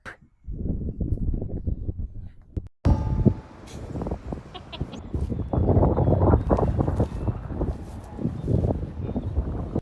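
Gusty crosswind buffets the microphone on a disc golf course, low rumbling bursts rising and falling over about ten seconds, with a brief lull near the start.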